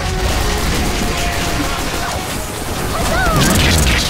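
Dense, continuous explosions and gunfire during a Team Fortress 2 Ponyville Reborn event, booming bursts layered over one another with game effects throughout, loud and close.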